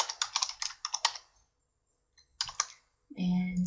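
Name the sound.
typing on a computer keyboard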